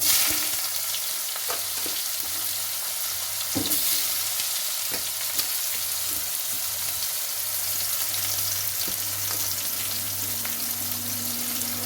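Onion, dry red chilli, bay leaf and whole garam masala frying in a hot wok for a goat offal and chicken feet curry, giving a steady loud sizzle with occasional stirring clicks and scrapes, no talk.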